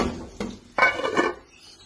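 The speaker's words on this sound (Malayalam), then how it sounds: "മൂടി കൊടുക്കാം." A lid set onto a pot of sardine curry: a couple of close metallic knocks, then a louder clattering clank that rings briefly and fades.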